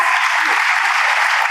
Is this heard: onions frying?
no